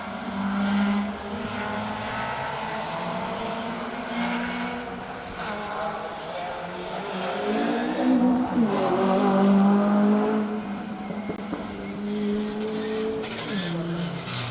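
Mazda MX-5 rally car threading its way downhill on a stage at Cadwell, engine revving up and down through gear changes, fairly close and steady with no talk.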